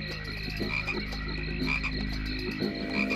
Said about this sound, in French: Regarde bien ces grenouilles.